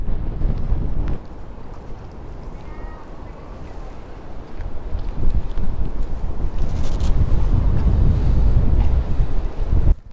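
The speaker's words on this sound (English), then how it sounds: "It's very windy, as you probably can hear the sound of the wind." Strong wind at the Lake Tekapo wharf in New Zealand's South Island, loud continuous buffeting and rumbling against the microphone, easing briefly and then building again toward the end.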